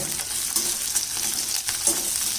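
Onion and garlic sautéing in a pan for bitter gourd puli kuzhambu, a close, even sizzle with a few soft stirring scrapes over a couple of seconds, no voices.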